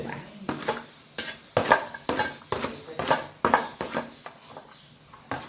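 Spoon stirring eggplant bharta in a metal pan, with repeated close scraping and clanking strokes in a steady rhythm and no talk.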